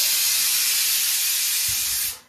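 Pressure cooker whistle releasing steam on a gas stove with potatoes cooking inside, a loud, continuous, harsh hiss that holds steady for about two seconds and then cuts off abruptly.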